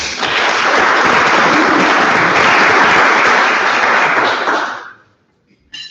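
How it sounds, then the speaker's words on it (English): A crowd applauds loudly for several seconds, dense clapping that fades out abruptly, followed by a brief silence and a faint noise. "let's give these guys a round of applause"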